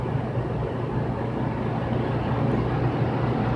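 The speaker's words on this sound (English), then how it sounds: "18 horse Kohler V-twin overhead valve engine on it." Mid-1980s Simplicity 5216 Hydro snow blower idling with its 18 hp Kohler V-twin overhead-valve engine, a steady low mechanical hum that holds constant and fairly quiet throughout.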